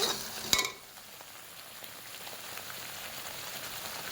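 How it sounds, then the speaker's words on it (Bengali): Spice paste of cumin, ginger and chili frying with salt and turmeric, a steady soft crackling sizzle after a sharp clink at the start, close and continuous without speech. "তারপরে এখানে লবণ হলুদ দিলাম, দিয়ে এখানে ভেজে নিচ্ছি।"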